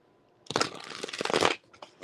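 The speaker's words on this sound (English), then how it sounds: "Okay, I knew that was a good shuffle." A deck of tarot cards is shuffled by hand: a quick, close riffle of papery flutters lasting about a second, followed by a couple of brief soft card taps.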